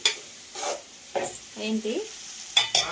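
Vegetable curry fries in a pan in a village home kitchen, stirred in a few scraping bursts over a soft sizzle, with a brief spoken question and some voiced sounds in between.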